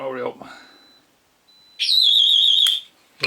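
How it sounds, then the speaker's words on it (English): An Arduino Nano or Pi Pico garage burglar alarm with a PIR sensor and magnetic door switch sounds a loud, steady high-pitched electronic tone with a warbling upper layer. It follows a brief faint beep and some earlier speech, then cuts off abruptly. "I'll get ready to turn the alarm off"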